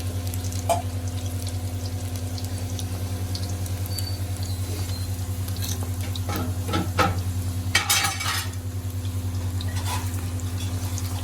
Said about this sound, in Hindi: फ्राई हो रहे हैं समोसे